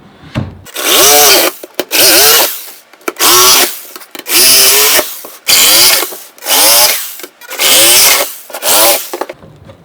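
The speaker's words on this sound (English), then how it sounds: "Now we're going to come back and cut in between all the holes where it hasn't been cut yet" A power tool cuts between drilled template holes in a Harley bagger panel to fit a stereo speaker. About seven loud, harsh cutting bursts follow one another, each separated by a short pause.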